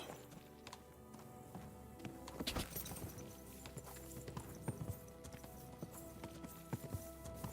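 Horse hooves clip-clop at a steady walking pace in the medieval game Kingdom Come Deliverance 2, close and clear over a low ambient bed, with occasional heavier knocks and a faint snort mixed in.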